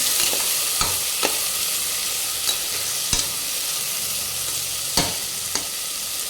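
Turmeric powder is stirred into hot oil, with an even, hissing sizzle underneath light, scattered clicks and taps of a spoon against the pan.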